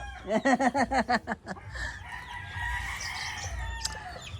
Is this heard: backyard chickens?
yes